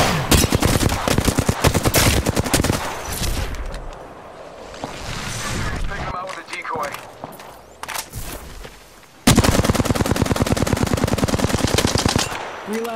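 Rapid automatic gunfire in the online shooter Apex Legends rattles out in loud, close bursts, breaks off for a stretch of quieter movement and scattered shots, then resumes in a long sustained volley.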